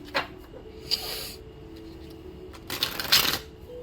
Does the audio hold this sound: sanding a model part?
no